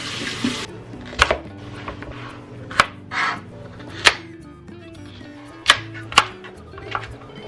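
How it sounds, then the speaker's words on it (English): A knife cutting carrots into even matchsticks on a board, with sharp, separate chops at an uneven pace over faint background kitchen noise, moderately close. "With our carrots, we're gonna cut it like this into even matchsticks."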